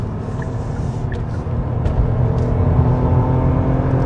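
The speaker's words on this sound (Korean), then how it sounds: "아, 시원하게 엔진 소리 올라오네요." A Kia K7 Premier's 3.0 GDI engine revs hard under full acceleration with the pedal floored, a steady loud roar that builds slightly in intensity and continues without pause.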